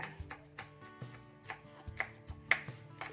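A knife chops fresh red chili peppers on a board in a home kitchen, giving a series of crisp, fairly regular close taps about every half second, quiet and alone.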